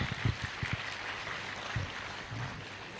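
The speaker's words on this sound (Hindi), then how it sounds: "तो माताओं के लिए जोरदार तालियां बजा" Audience applause for mothers at a Korba motivational program, a soft, steady patter of many hands clapping in a hall, punctuated by a few low thumps.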